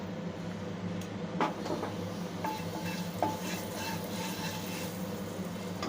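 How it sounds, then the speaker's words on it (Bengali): Halved boiled eggs frying over low heat in a pan with chili powder and turmeric, giving a steady soft sizzle with a few stirring knocks and utensil scrapes. "দিয়ে ডিমগুলো উল্টো দিক দিয়ে অল্প আঁচে ভেজে নেব।"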